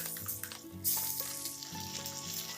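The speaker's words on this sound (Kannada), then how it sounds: "ಈರುಳ್ಳಿ ಹಸಿ ವಾಸನೆ ಹೋಗೋವರೆಗೂ ಫ್ರೈ ಮಾಡಿ" Chopped onions frying in a pan for bisi bele bath, a steady close sizzle with occasional stirring scrapes running throughout, no voices.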